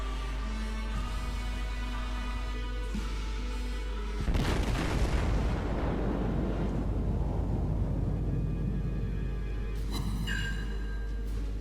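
A heavy warship broadside booms in World of Warships, one loud, deep blast with a long rumbling decay, over a steady engine drone and background game music.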